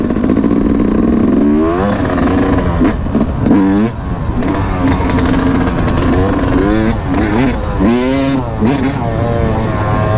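A KTM 350 XC-F four-stroke dirt bike engine roars close and loud throughout the ride, rising and falling in repeated revving swells as the rider works the throttle.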